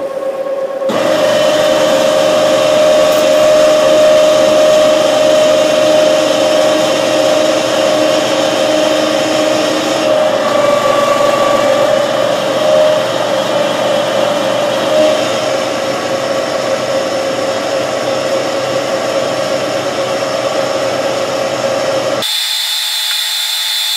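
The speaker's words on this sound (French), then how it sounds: "Là je suis à 280 tours et je mets une toute petite avance et je vais tenter de décortiquer ça." A milling machine cutter at 280 rpm with a very slow feed, boring out brazing on a universal joint, gives a loud, steady whining grind that runs on for over twenty seconds. Its pitch shifts slightly partway through before it stops abruptly near the end.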